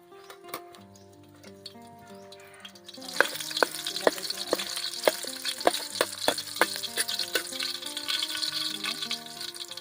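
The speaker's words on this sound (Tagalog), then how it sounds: "Lagay na natin ang bawang natin" Garlic sizzles in hot cooking oil for a Filipino sardine sauté, a bright, loud, steady crackle that starts partway through after a quieter stretch of clinks and utensil ticks.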